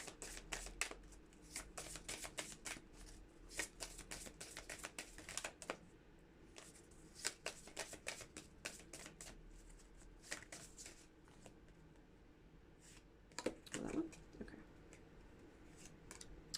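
Witching Hour oracle cards being shuffled by hand, giving a steady run of soft, close riffling flicks and slaps with short pauses, a louder burst near the end, and no talking.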